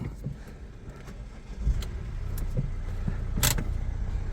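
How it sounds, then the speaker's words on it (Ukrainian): A crossover car's engine is started at an outdoor car market: a brief starter crank, then the motor catches and settles into a steady, close idle with a few clicks and knocks along the way. "зараз ми цей автомобіль вам заведемо. Послухайте, як він заводиться"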